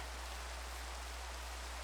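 Steady rain falls in a Minecraft world, a soft, even hiss of constant drops with no talk over it.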